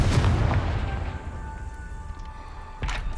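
Confringo explosive spell blast in the Hogwarts Legacy video game: a heavy booming burst at the start that rumbles and decays, followed by a second, softer impact near the end.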